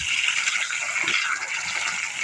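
Water gushes continuously from the drain valve of a residential water heater being flushed of sediment, a steady, fairly loud hissing flow with no pauses.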